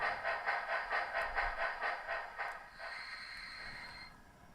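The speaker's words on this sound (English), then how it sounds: "It's crazy Russian style running steam locomotive." A ZIMO sound decoder in a model train plays a Russian-style steam locomotive running, with rhythmic chuffing exhaust beats that slow and fade into a steady hiss and a faint whistle-like tone, close and fairly quiet.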